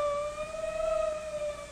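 An ambulance siren wails steadily in a single sustained tone with bright harmonics, moderately loud and alone throughout.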